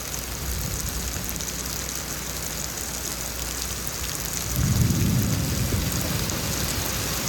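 Heavy rain falls steadily during a thunderstorm in Houston, Texas, a dense constant hiss, with a low rumble of thunder swelling partway through.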